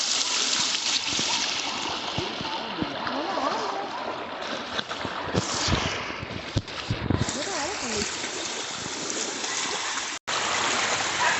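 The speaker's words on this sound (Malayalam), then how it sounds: "ആ അരുവിയിലൂടെ ഒഴുകുന്ന വെള്ളത്തിൻ്റെ കളകള സൗണ്ടുകൾ കേട്ടോ" Water babbles and gurgles continuously in a forest stream near the Bhoothakulam Thoniyppara waterfall, with occasional splashes, while people talk over it.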